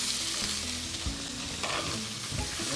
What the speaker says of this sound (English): I'm going to add the prawns in now